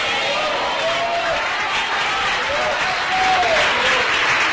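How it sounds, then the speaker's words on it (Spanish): A church congregation claps steadily at an evening service, a dense even wash of applause throughout with a slight swell near the end. "¡Fuerte ese aplauso a Cristo!"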